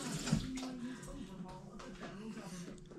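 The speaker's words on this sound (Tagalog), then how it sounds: "Hugasan ko muna yung kamay ko." Water runs steadily from a tap as hands are rinsed while preparing grilled bangus (milkfish), a continuous close splash with a voice talking over it.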